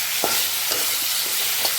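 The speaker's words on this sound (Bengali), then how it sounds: "আমি খুব ভালো মতন ভেজে নেব যতক্ষণ না পর্যন্ত রসুনের থেকে কাঁচা গন্ধটা বেরিয়ে যায়" Crushed garlic frying in hot spiced oil for an egg curry gravy, a loud, steady crackling sizzle broken by a few soft stirring scrapes, close and continuous and with no voices.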